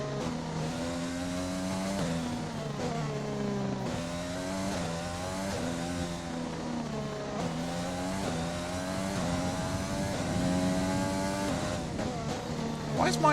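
A Formula 1 race car engine in the game F1 2020 at the Belgian Grand Prix wails steadily close-up, repeatedly climbing in pitch through the gears with brief drops at each shift, a voice talking over it.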